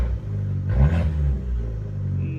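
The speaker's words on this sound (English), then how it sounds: "I'll give it a little bit of a rev." A Fiat 500 Abarth with a 1.4-liter turbocharged four-cylinder gives a quick rev, its low engine note rising in a short swell before settling back to a steady idle rumble, close by with no talking.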